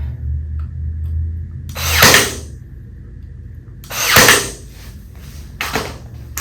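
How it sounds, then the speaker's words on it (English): Three separate bursts of a power drill whirring up and stopping as it pre-drills holes in wood, with quiet pauses between them, close by. "pre-drill our holes."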